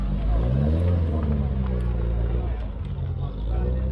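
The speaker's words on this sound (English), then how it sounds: "I just filmed this 205 driving off" A Peugeot 205 rally car pulls away with a loud, throaty engine rumble that holds strong and then eases slightly as it moves off, with no other sounds over it.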